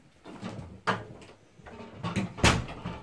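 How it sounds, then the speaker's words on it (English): A door closing in a home, heard as a few distinct thuds and knocks at close range, the loudest near the end, with no talking. "Close the door."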